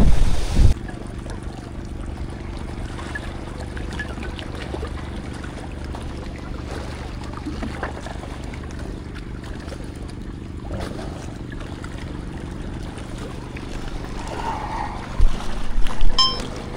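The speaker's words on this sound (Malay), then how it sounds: "Angin agak kuat" Steady wind roars across the microphone with a constant low rumble, gusting louder at the start and near the end; no voices.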